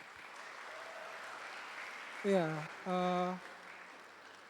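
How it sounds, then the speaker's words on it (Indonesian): A crowd applauds composers at a 2022 Maluku provincial poetry-musicalization competition results announcement, a steady wash of clapping under a single brief spoken word from a nearby voice. "Dan kita tepuk tangan loh untuk itu semua."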